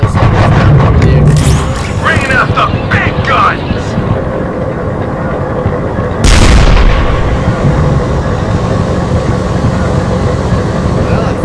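Big guns boom in a Gettysburg Armored Warfare game, heavy thuds over a constant low rumble, with a sharp loud blast near the middle and a steady droning hum throughout.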